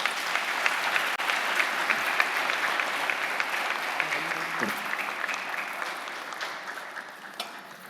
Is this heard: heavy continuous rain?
no